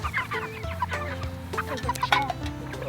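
Hungry chickens clucking and squawking in a pen as they are fed, overlapping calls from several birds close by, with busy background rustle.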